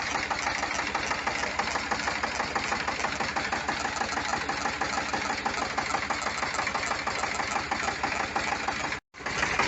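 A running car engine with a steady metallic rattling knock, close and loud, repeating in a regular fast rhythm with a brief cut near the end.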